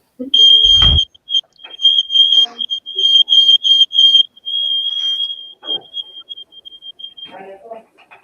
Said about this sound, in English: I hear this really, really loud alarm, and Brett goes, "Can I hear whistling?"